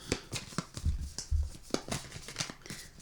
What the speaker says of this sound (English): Please have the cards jump out at us as I'm shuffling